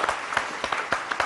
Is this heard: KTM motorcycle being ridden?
no